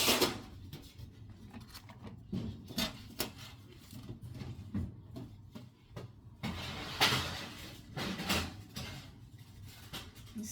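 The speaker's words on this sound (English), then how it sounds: "Well, let's put it in the oven." A baking tray slides into a home oven amid a series of metallic clatters, scrapes and a door or rack clunk, irregular and close, with no speech.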